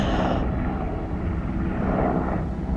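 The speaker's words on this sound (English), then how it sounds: "I'm higher than that helicopter flying by" A helicopter passes by over a desert mountain summit, a steady low rotor drone with a broad engine roar that stays fairly loud and constant.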